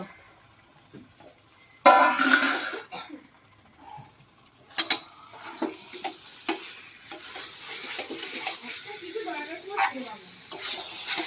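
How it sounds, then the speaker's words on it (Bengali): Pre-fried chicken pieces go into a pot for Kolkata restaurant-style chicken biryani, with a loud sizzle at first, then repeated close scraping and stirring clatters fading into a softer sizzle. "এবার দিয়ে দিচ্ছি ভেজে রাখা মাংস।"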